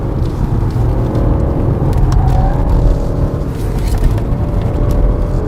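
A Hyundai Genesis G80 3.3 GDI sedan takes a corner, giving a steady loud cabin drone of engine and road rumble with no change in pace.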